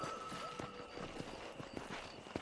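Horse hooves clip-clopping in the video game Red Dead Redemption, a run of soft, fairly even steps close by, mixed with faint ambient game sounds.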